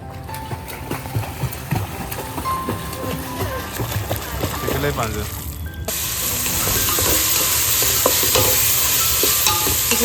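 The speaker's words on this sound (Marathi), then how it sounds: "मी नेहमीप्रमाणे बिर्याणीची फोडणी केली" Whole spices and onion frying in hot oil for a biryani tempering, a steady sizzle that swells louder partway through, with stirring and splattering over low-level kitchen noise and voices.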